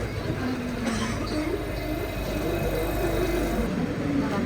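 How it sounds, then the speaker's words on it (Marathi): Vande Bharat Express train pulling into Dadar station in Mumbai, a steady low rumble of wheels and carriages with faint high squeals, continuous and fairly close throughout. "आता आपली वंदे भारत ट्रेन आलेली आहे"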